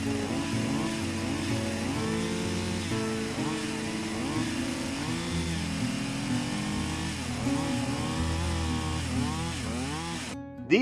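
Chainsaw cutting old barn logs for an eight-sided log cabin, engine running loud and continuous with rising and falling revs as the bar works through the wood.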